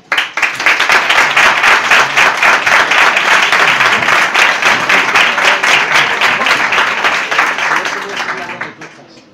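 Audience at a talk applauding as a speaker from Córdoba is introduced, dense sustained clapping from a full room for about nine seconds before fading out.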